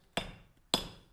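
Two sharp, close strikes from a treadle hammer forging a metal piece land about half a second apart, each a dull thud with a brief metallic ring.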